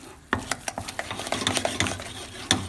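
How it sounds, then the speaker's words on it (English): A spoon scrapes and clacks rhythmically against a pot while choux pastry dough is stirred vigorously, a quick run of close, sharp taps and scrapes with no talking. "you have to move and stir vigorously or with a lot of energy"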